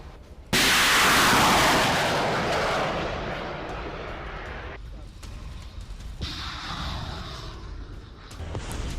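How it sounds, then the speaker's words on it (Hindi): A cruise missile strikes and destroys a dummy warship during Russia's Zapad 2025 military exercise, giving a sudden loud blast that booms and rumbles, then slowly fades under a voice talking. "ज़पाड 2025 के तहत एक क्रूज मिसाइल से डमी वॉरशिप को तबाह किया"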